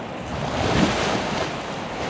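Rough sea waves surge and crash against concrete stairs and a seawall on an eroding sandy beach in ordinary non-storm weather, a continuous loud roar of surf mixed with wind noise.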